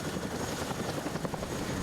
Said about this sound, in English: Other helicopters spool up and move out.